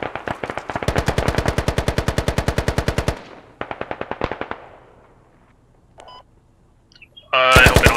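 Automatic gunfire in the tactical shooter game Squad: a long rapid burst of loud close shots, a pause, then a shorter burst, followed by quieter beeps and another loud volley.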